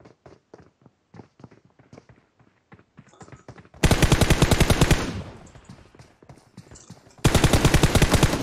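PUBG Mobile gunfire from a revolver-type pistol and rifles: scattered single shots and footsteps give way to two loud rapid bursts of close shooting, with no talking.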